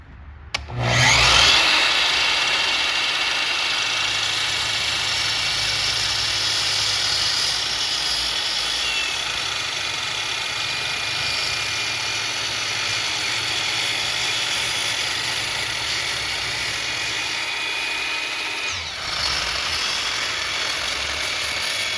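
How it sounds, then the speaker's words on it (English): A power saw rough-cuts an epoxy resin and wood serving board, running as a loud, steady whine for nearly the whole stretch after a sharp start and dipping briefly near the end, with no talking. "now let's rough cut it so we have 90-degree angles before we route"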